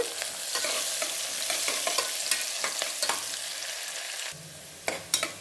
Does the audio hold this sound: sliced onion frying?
yes